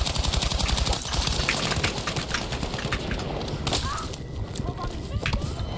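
Rapid bursts of SMG fire in the video game Battlefield 6, loud and dense, with short staccato volleys and layered in-game effects filling most of the stretch.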